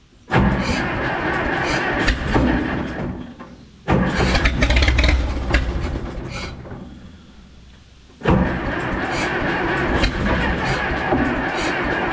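A Minneapolis-Moline 5 Star tractor engine is cranked with the choke and heavy throttle: three loud sustained cranking and running bursts, separated by brief drops, close by with no talk.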